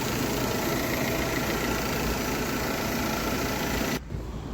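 Chevrolet Gentra engine idling steadily with an added auxiliary radiator fan running, a constant close-up broadband hum and whir that cuts off abruptly near the end.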